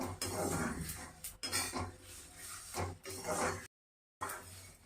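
Spices being stirred as they fry in a pan for a spicy olive pickle, a close scraping and clinking of utensil against metal repeating steadily, with a brief silent gap near the end.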